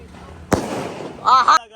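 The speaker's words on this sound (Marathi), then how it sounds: "पहिला धमाका चालू झाला आता" A Diwali firework rocket goes off with a sharp loud burst, followed by a brief whistling, crackling tail, while people chatter nearby.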